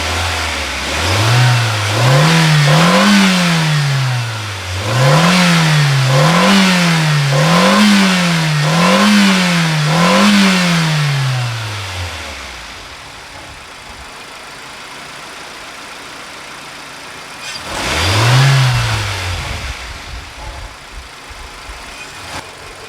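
A Honda CR-V engine running rough, its idle surging up and down in repeated waves for several seconds, then settling before one more rev swell; close, loud and steady with no talking.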